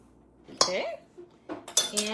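Salt stirred into a tuna and zucchini casserole in a baking dish, a spoon clinking and scraping against the dish in a few short, close knocks and rattles.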